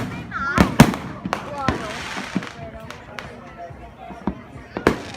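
July 4 fireworks at Disney World bang and crackle in a rapid series of sharp bursts, some loud and close, with crowd voices and chatter underneath.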